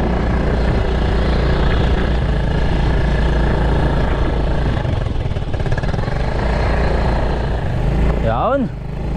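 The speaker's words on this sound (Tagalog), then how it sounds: "Ito yung motor ni Jun." A borrowed motorcycle engine runs steadily and loudly from start to finish with a continuous low hum, heard outdoors on a farm, before a brief rising whine near the end.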